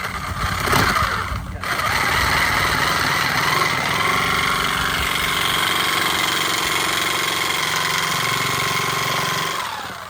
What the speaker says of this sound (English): Time for some new jigsaw blades